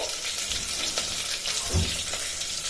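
Chillies, curry leaves and cumin being sautéed in oil in a pot, giving a steady, fairly loud sizzle with faint stirring clinks throughout.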